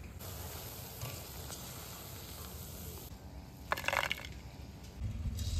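Palm fruit tal mohon sweets frying in hot oil, a quiet steady bubbling hiss with a brief brighter burst of crackling midway and a low rumble toward the end.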